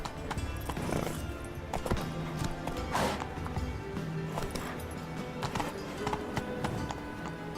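Hooves clip-clop in a fast gallop in The Witcher 3, with rapid rhythmic beats, occasional horse snorts and whinnies, and a busy game soundscape underneath.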